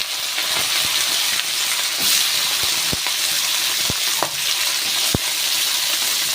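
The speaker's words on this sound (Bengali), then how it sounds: "এবারে ফোড়নে দিয়ে দেবো দিয়ে আলুটাকে দিয়ে দেবো" Potatoes added to hot oil with whole spices (phoron) after eggplant was fried, in a home Bengali kitchen: a steady broad sizzle throughout, punctuated by sharp clicks and spatters, with no talking.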